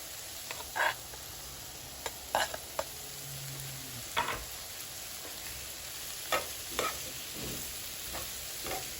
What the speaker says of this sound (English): Let's go ahead and add our tomato.